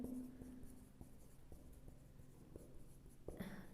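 Writing on a classroom board gives faint, close scratching and light tapping strokes in an irregular rhythm, quiet and alone, with no talk over it.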